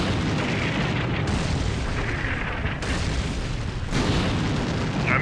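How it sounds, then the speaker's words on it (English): A 150mm artillery barrage in the Combat Mission war game rumbles as one continuous, loud, dense roar of blasts, layered and sustained throughout with no voices. "that's what a 150mm barrage looks like"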